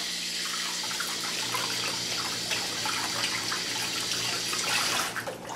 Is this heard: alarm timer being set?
no